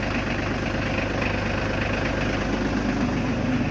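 A tractor engine idles close by on a farm where Friesian horses are kept, producing a steady, dense low rumble that stays constant throughout with no talking.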